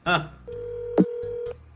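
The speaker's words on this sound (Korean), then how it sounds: "그래서 제가 지금 전화하겠습니다" Outgoing phone call on a mobile: a steady ringback tone sounds in repeated pulses after a short burst of voice, loud and close, with a voice briefly cutting in.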